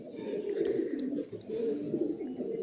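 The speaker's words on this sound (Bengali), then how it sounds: "এলাহাবাদি পায়রা এগুলো সব" Allahabadi pigeons coo steadily at close range, overlapping low throaty calls rolling on without a break, with no talk over them.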